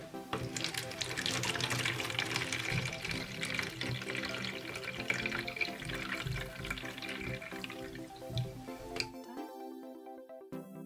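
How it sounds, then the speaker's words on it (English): Water runs steadily from a tap to fill a toy bathtub for a baby doll, a continuous splashing flow lasting several seconds before cutting off, with light music continuing after. "Now it's time to fill the bathtub with water."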